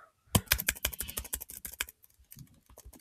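Rapid bursts of keystrokes on a computer keyboard, close and clear, typing a cookie count into a Cookie Clicker browser game, with a brief pause before a few sparser taps.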